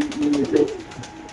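Pigeons at a pigeon market give a brief, low, throaty coo close by, a rolling burst that swells and fades within a second.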